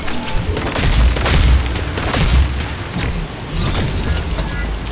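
An assault turret in The First Descendant fires a rapid, dense stream of booming shots. The bursts rise and fall in loudness amid other game noise.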